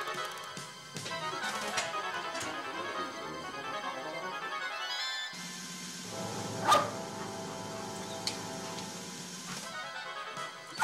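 A dog sniffing around an office among staff gives a few barks and yips, moderately close, over a steady background bed with music-like tones, with no one speaking during the barks.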